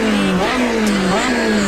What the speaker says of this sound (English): And that engine sound